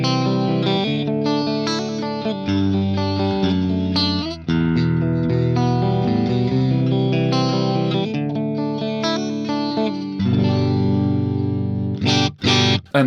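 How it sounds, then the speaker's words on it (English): An Ibanez RG2620 electric guitar with its bridge humbucker coil-split rings out sustained chords and arpeggiated notes through effects, loud and continuous, ending in a few choppy, accented strums. "and that gives us the bridge humbucker split, which sounds like this."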